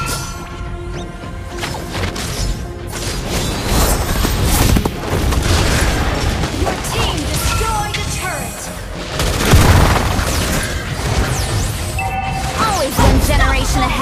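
Turret destruction in the Mobile Legends mobile game, a loud cluster of booming crashes and impacts layered over continuous game music and effects, with an announcer-style voice speaking between the blasts.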